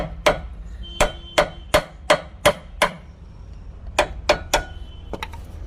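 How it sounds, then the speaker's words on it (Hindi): Metal tool struck repeatedly while a new axle is driven into place on a car, a run of seven sharp, evenly spaced clanging hits, a short pause, then three more blows and a quick clatter, loud and close with no talk. "अब ये चिमटा डाल रही है, डाल कर चोट मार दे नीचे"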